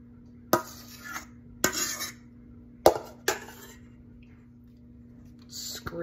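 Deviled egg filling for hot pepper relish deviled eggs scraped into a piping bag: several short, close scraping bursts separated by pauses, with a steady faint hum underneath.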